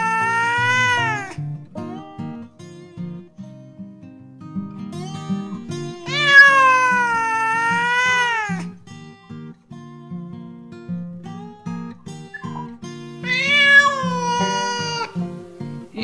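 Cats on a farm meow in several loud, long, wavering cries separated by pauses, with soft background noise between calls.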